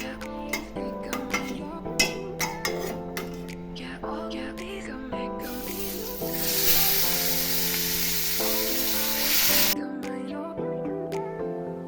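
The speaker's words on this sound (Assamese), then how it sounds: "মাছখিনি বোলো মই ফ্ৰাই কৰি দিওঁ" Fish frying in a pan, a sizzling hiss that swells loudly midway for several seconds and then falls off, heard over a steady tonal background with scattered clinks.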